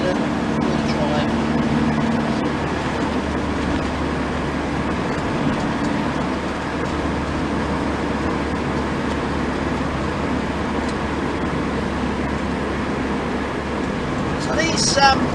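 A Vauxhall Victor FB, the second-generation Victor, drives along with a steady low engine drone and road rumble. Cabin noise stays constant and fairly loud throughout, with no talking.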